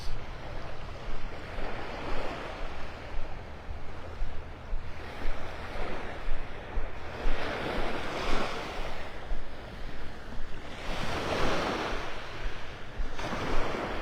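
Ocean waves roll onto the beach at Pelican Bay in North Naples, Florida, in a continuous surf wash with swells every few seconds, mixed with wind noise and no voices.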